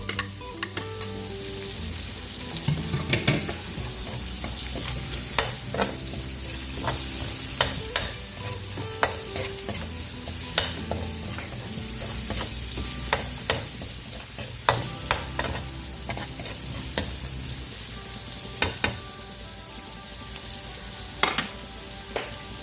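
Pork adobo sizzles in a pan with garlic while a utensil stirs and scrapes the bottom, a constant frying hiss broken by sharp, irregular scraping clicks throughout.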